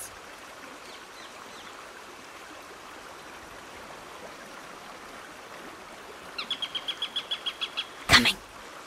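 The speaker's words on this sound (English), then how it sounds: "Bird's voice." Birdsong in the stealth video game Shadow Tactics: a bird trills a rapid series of about a dozen chirps near the end, over a constant rushing outdoor ambience like flowing water, followed by a brief loud rustle.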